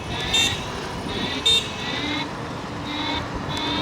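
Repeated electronic horn beeps from an H1 electric scooter in short bursts, several honks spaced over a few seconds against steady road and motor noise, on a forest road at night.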